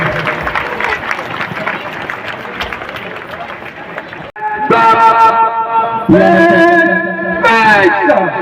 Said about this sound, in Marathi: सर्वांनी टाळ्या वाजवून स्वागत करायचं आहे।